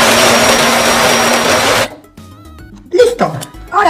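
Blender grinding lemonade: a loud, close, steady whirring roar for nearly two seconds that cuts off abruptly, then a quieter stretch followed by short voiced sounds and noise bursts.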